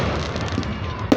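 Fireworks heard from inside a house: a dense, steady crackling rumble with one sharper burst near the end.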